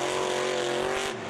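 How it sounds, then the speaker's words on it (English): A heavily modified quad monster truck with out-of-shape wheels roars past at a monster truck drag race in Indianapolis, a loud continuous engine drone with strong low rumble that fades slightly at the end. "As the truck goes by, you can really see how out of shape those wheels are."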